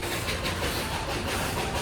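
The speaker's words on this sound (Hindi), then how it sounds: "हमारी यहाँ पे ट्रेन निकल चुकी है" The Darjeeling toy train pulling out, a brief steady rumble of rolling rail cars with faint rhythmic clatter and hiss, moderately loud and without voices.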